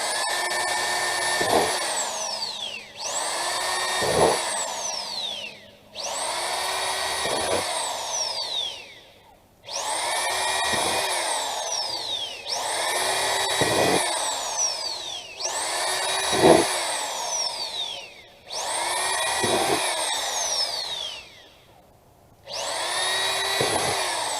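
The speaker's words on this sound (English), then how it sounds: "going to drill holes in the bottom of this thing." A power drill whirs in repeated bursts, each spinning up and winding down as it bites through the bottom of a plastic container, with short pauses between roughly eight holes.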